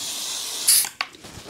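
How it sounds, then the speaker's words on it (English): Aerosol brake cleaner sprayed onto an engine cylinder head during an ATV engine rebuild, a short loud hissing burst followed by a fainter spurt against steady background noise. "I'd rather spray the heck out of this thing with brake clean, get it really clean"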